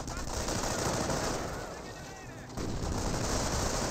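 MG42 machine gun fire in the Company of Heroes 1 strategy game, a dense continuous stream of rapid shots under battle noise, with a brief dip before the firing resumes at full loudness.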